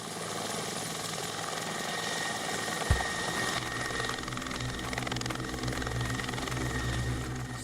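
A military helicopter in flight during Indonesian navy Kopaska training throbs loudly and continuously, with one brief thump partway through.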